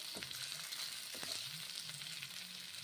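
Home-style vegetable curry being stirred in a pan, with a steady sizzle of frying underneath and a few soft scraping strokes, close and continuous, with no voices.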